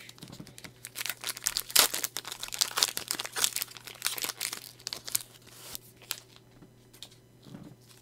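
Foil wrapper of a Pokemon Chilling Rain booster pack being torn and opened by gloved hands: close, dry crinkling and tearing in irregular bursts over a faint steady hum, tapering off toward the end.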